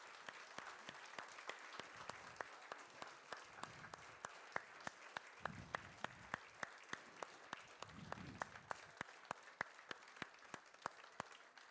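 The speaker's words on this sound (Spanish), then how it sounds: "Dale un fuerte aplauso al Señor" A church congregation claps in praise, steady and moderately distant, with a few sharp individual claps standing out and faint murmuring underneath throughout.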